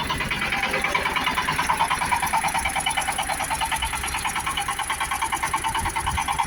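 Shifeng SF 354 mini tractor engine running steadily, a loud, close, rhythmic diesel chugging with a fast regular pulse and no talk over it.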